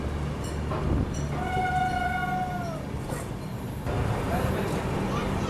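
Special train passing through a railway station in India, a continuous rumble of rolling cars with a sustained horn blast in the middle, fairly close, with faint background chatter.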